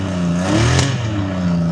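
A cold Honda CBX six-cylinder motorcycle engine idles close at the exhaust, a loud, steady throaty hum with a brief swell in revs midway before settling back.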